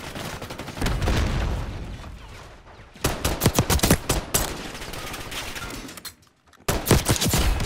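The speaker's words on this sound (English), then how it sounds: "Nice machine gun" Machine gun fire in Black Ops 6, loud close bursts of rapid shots separated by brief pauses and a near-silent gap before a final burst.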